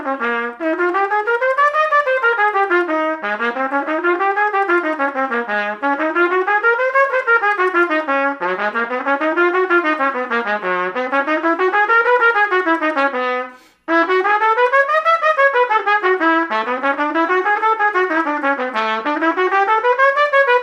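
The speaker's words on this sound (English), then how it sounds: "So I just played all my major scales in" A solo trumpet plays through all the major scales, running up and down in smooth, continuous phrases with one short breath pause partway through, clear and close with no talking.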